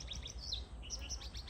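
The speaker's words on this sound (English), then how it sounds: "The bird sounds seem to be so soothing and so pleasant." Small birds chirping outdoors, a quick run of high, bright tweets and short calls repeating across a second and a half over a low outdoor rumble, with a faint voice in the background.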